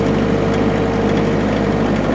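A TYM 4820 tractor engine labors steadily while lifting a big log, a loud continuous low drone with a constant hum and no break across the short stretch.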